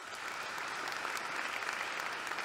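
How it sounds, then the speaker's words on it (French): A crowd at a graduation ceremony for the 2020-2021 class applauds its graduates in a steady, dense, somewhat distant wash of clapping. "on les applaudit encore"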